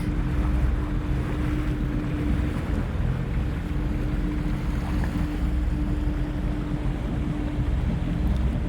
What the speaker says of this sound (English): But I do have this little boat, and it allows me to experience the lake.